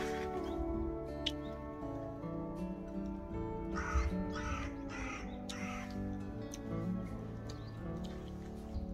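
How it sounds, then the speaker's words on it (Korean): Several crow caws ring out in a short burst near the middle, set against a steady background hum of outdoor ambience. "까마귀네."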